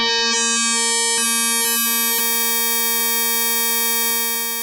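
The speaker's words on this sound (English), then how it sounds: "we'll hear our sine wave, and then we'll start to modulate towards the ratio oscillator side" A steady synthesizer sine wave being frequency-modulated, holding several sustained pitches, with a few brief clicks early on, then a smooth, unbroken drone that fades slightly at the end.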